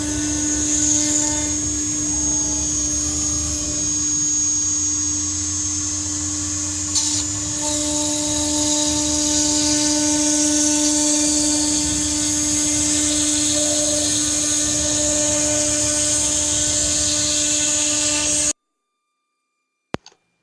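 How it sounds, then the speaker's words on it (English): A steady high-pitched whine of a CNC mill with a single-flute carbide bit cutting carbon fiber sheet runs unbroken for most of the clip, then stops abruptly. "CNC machine the sheet as needed"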